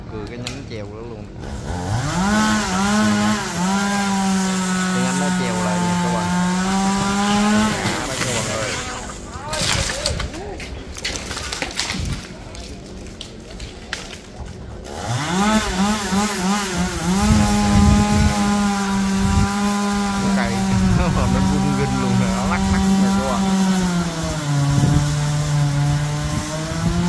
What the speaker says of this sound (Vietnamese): Rồi chúng mình bắt đầu cưa cái nhánh chèo đó luôn.